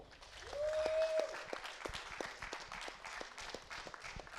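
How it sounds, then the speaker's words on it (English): Scattered applause from a small group, modest and fairly distant, with a brief whistle-like tone near the start and claps tapering off. "A round of applause for our runner-ups and our winners"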